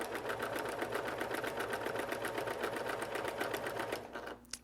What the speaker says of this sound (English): I'm going to move my needle position over and take a few more stitches.